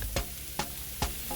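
Frozen tofu strips sauté in a pan, giving a continuous close sizzle broken by three evenly spaced scraping strokes as they are stirred.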